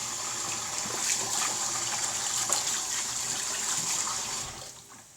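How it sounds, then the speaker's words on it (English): Tap water runs steadily as hands are washed in a home kitchen, a continuous close splashing gush that tapers off at the end. "I'm just gonna give my hands a quick wash"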